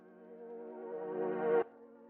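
A reversed sound swells gradually in a rising tonal drone, then cuts off abruptly at its peak, followed by a faint lingering tone.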